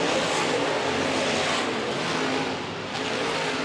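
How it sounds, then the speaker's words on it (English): Super late model race cars roaring around Rapid Speedway, a loud dense engine wash that swells and dips slightly as the pack drags to the line, with no clear voice over it. "Schaller staying to the inside off of turn number 4. Drag race to the line."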